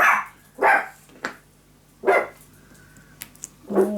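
A new puppy barks indoors in short separate yaps, four or five close bursts spaced irregularly with quiet gaps and small clicks between.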